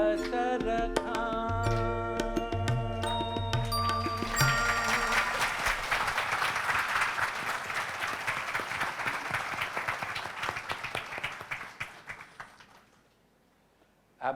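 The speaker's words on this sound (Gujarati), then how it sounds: "આ બધી તાળીઓ જે પડે છે ને" An audience claps after a song from the old Gujarati stage. The music rings out first, then a broad wash of applause swells over it and fades away toward the end.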